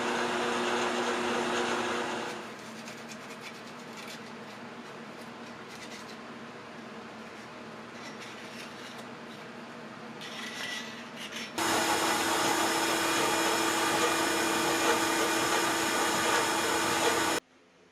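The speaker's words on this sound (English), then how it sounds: "the best way to strip the paint off the central drive shaft, though, was just to do it while it was in the lathe" Paint being stripped from a carnival ride's central drive shaft as it turns in a lathe, a steady close rubbing, rasping scrape over the motor's hum, growing louder and harsher in the last few seconds.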